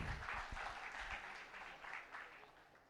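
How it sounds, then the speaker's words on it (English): Steady applause from an audience at a corporate keynote on procurement and ESG, welcoming the Head of Procurement of Nokia to the dais; dense, even clapping holds for the whole stretch at moderate distance. "let me invite Mr. Vijay Sati, Head of Procurement, Nokia, on the dais with a huge round of applause"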